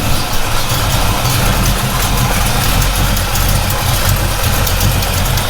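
A 1980 Chevrolet Camaro Z28 V8 engine idles steadily and loudly at close range, a constant low rumble with no speech over it.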